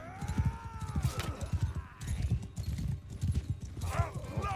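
Horse hooves clip-clop in steady rapid rhythm in Mount & Blade 2 Bannerlord, loud and close, with a whinny and someone talking over the hoofbeats.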